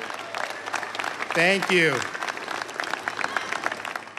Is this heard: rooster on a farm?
no